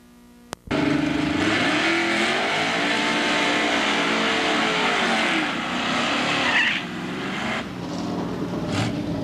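A GM Camaro and a Mopar Duster launch off the line in a 1990s drag race, a sharp start giving way to a loud sustained roar of racing engines with tire squeal and revving, close and continuous.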